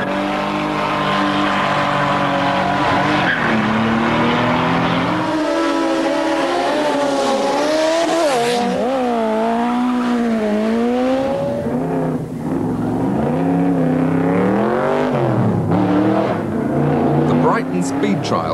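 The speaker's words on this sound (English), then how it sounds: "All sorts of people in all sorts of cars and motorcycles racing down" Loud car engines, including a 1989 TVR 450SE, roar and rev as vehicles accelerate hard past along the Brighton seafront at a speed trials sprint, with rising and falling engine pitch throughout and a voice talking over it.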